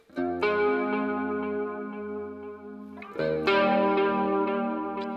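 An electric guitar rings out through chorus and a touch of tape delay into a cloud of distorted reverb, two sustained strummed chords, the second struck around three seconds in, each swelling and slowly fading.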